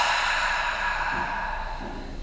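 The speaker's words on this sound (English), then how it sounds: "You can inhale through the nose and exhale it out all through the mouth." A single long, deep exhale pushed out through the mouth during a yoga breathing exercise, close and steady, fading toward the end with no talking.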